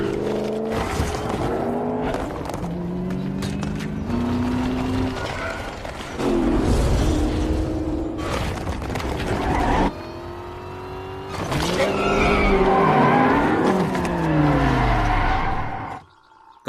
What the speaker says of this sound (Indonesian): Ia sedang melaju kencang mengendarai mobil sport